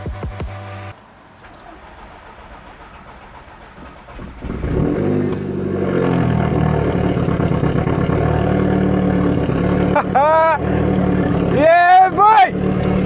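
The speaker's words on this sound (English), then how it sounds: "I am praying that this car starts." An Audi A3 8P cranks after its ignition is cycled, then catches into a rising engine rumble that settles into a steady run, with people exclaiming loudly near the end.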